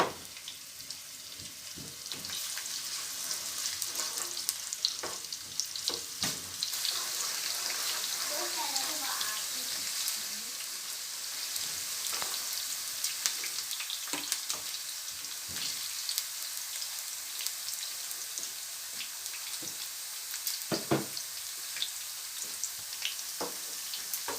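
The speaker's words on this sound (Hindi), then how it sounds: "ये हम भुनी दाल पकाने लगे हैं" Moong dal lentils sizzle and crackle as they fry in hot oil with a continuous hiss, dotted with small pops throughout.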